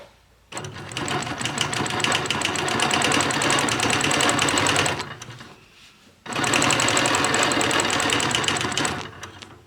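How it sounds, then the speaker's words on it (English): A sewing machine quilts along a ruler with a fast, steady, loud mechanical whir of stitching, running in two long bursts with a brief pause between them. "Let's quilt all the way towards the end stop on the ruler."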